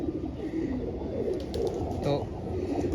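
A racing pigeon gives soft, low coos close by while someone talks over it in Hindi.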